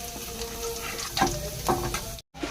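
Frying in a pan while making egg and veg puffs at home, a steady broadband sizzle with a couple of louder crackling bursts and stirring scrapes, close up and continuous apart from a brief cut near the end.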